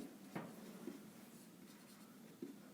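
Pen or chalk writing out a geometry proof, quiet scratchy strokes with a few sharper taps at intervals, close and faint against a still room.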